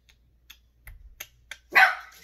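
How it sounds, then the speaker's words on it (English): A dog barks a few short, sharp times at a distance, with soft clicks in between and one louder bark near the end. "my dogs are barking"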